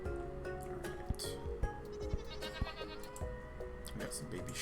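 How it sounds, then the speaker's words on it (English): Sheep and goats, including baby sheep, bleat in a Minecraft-style game world, several short bleats and cries popping up over a busy bed of game music and effects while a person talks. "We got some baby sheep, we got some goats"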